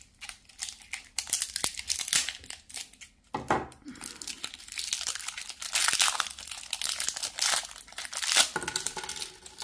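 Plastic and cardboard packaging crinkles and crunches continuously as the box of a 6-in-1 electric shaver is opened, with occasional tearing and rustling sounds, close and fairly loud.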